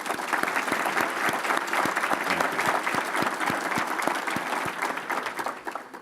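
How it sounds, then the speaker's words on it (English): Steady, full applause from a school district audience at an annual state-of-the-schools address, dense clapping that fills the room for about six seconds and tapers slightly at the end, with no speech over it. "and they deserve a round of applause."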